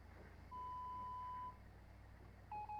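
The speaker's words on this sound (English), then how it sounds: "AM beeps." Steady electronic beeps from an AM radio set in the video game Stories Untold: one long tone, a pause, then a shorter tone near the end, faint over a low static hiss.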